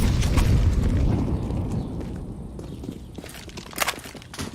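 A grenade going off in the video game Counter-Strike, a heavy blast at the start that rolls off into rumbling decay, followed by a few sharp footsteps or clicks near the end.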